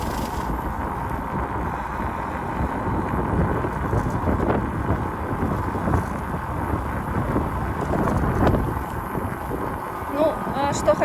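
Wind gusts roar and buffet the microphone outdoors on a hot day near a Turkish bazaar, a continuous rumbling wash that swells in places, with someone talking over it.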